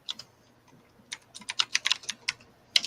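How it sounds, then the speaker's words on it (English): Rapid typing on a computer keyboard: a few scattered taps, then a dense burst of crisp, close key clicks that ends with a final sharp clack, with no voices. "typing like crazy, typing away"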